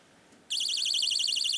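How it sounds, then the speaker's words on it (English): A novelty alarm on a magic show stage, Penn & Teller: Fool Us, cuts in abruptly after a short quiet and keeps sounding as a loud, high, rapidly warbling electronic tone. "And now comes the pee-pee alarm."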